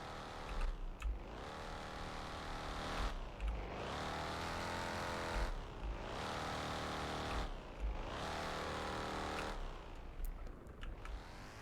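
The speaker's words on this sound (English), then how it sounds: "Nice sounding car. Let's go ahead and give it a couple revs now." A car engine in the video game Fix It Up revs repeatedly, four long rising and falling sweeps in a steady pattern, loud and continuous with no talking over it.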